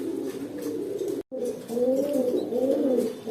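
A new adult pair of English Tailmark pigeons coos close by in a low, continuous warble that stops for a brief moment and then swells back louder and rounder, with nobody speaking.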